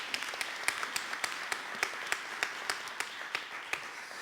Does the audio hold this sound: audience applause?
yes